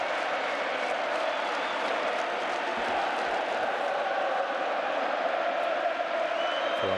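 Inter football fans cheer and applaud in a stadium at the 2007 Coppa Italia final against Roma, a steady roar of crowd noise at a distance with no break.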